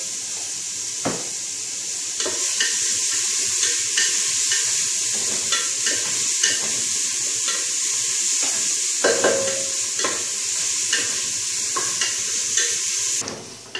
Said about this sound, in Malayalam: ഒരു ഇച്ചിരി ഉപ്പിട്ട് വഴറ്റുക